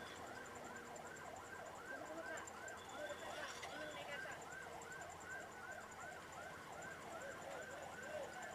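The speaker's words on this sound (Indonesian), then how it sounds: "Nah, ada ambulan ya." Ambulance siren wailing on a narrow mountain road through the Lembah Anai valley, with a steady repeating rise-and-fall tone that stays loud and close throughout amid traffic noise.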